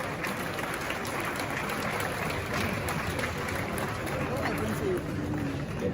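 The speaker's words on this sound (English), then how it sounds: "Please, a round of applause." Sustained applause fills a hall at a symposium and book launch in Ghana's KNUST Great Hall, a dense, steady roar of clapping from a large audience lasting throughout, with faint crowd murmur underneath.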